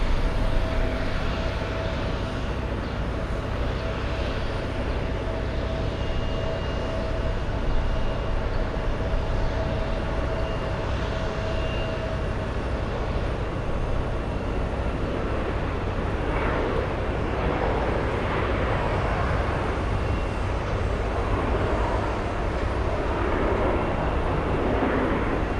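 An airliner rolls toward takeoff on runway 15 right at Boston Logan International Airport. Its broad, unbroken jet roar holds steady and fairly loud throughout, with a faint whine running through the middle.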